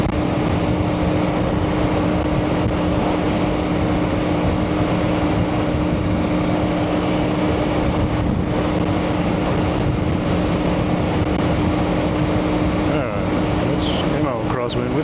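Strong crosswind buffets a rider on a motorcycle on a New Mexico highway, a steady loud roar of wind and engine with tonal drone lasting throughout.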